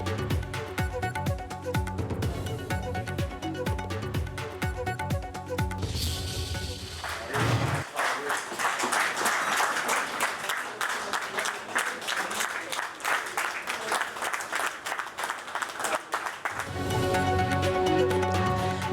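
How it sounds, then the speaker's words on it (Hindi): Federal ministers at a cabinet meeting rise for a standing ovation as Prime Minister Shehbaz Sharif arrives, producing sustained, dense clapping from a room full of people, framed by a voiceover at the start and end. "वफाकी वज़रान ने खड़े होकर तालियां बजाईं।"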